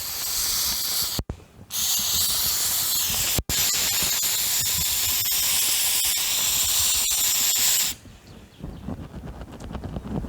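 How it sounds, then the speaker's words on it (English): A close, loud continuous hiss of an aerosol cleaner spraying a Subaru Forester part runs for several seconds, broken by two very brief pauses, then cuts off into quieter background noise. "and give it a good spray."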